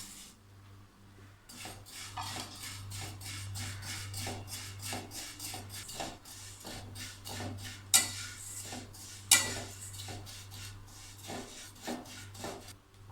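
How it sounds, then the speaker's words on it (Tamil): Vermicelli is dry-roasted in an empty pan and stirred with a utensil, giving a steady rhythmic scraping and rasping, with a couple of sharper clinks against the metal and no voice. "இதில் இப்போ இந்த சேமியாவை லைட்டாக வறுத்து எடுத்துக்கலாம்"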